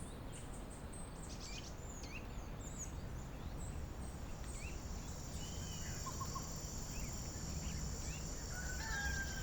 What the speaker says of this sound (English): You can hear the roosters welcoming the morning.